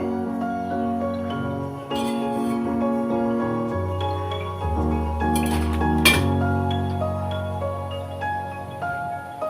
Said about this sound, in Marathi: मी गॅसवर कढई ठेवली, त्याच्यात तेल टाकते.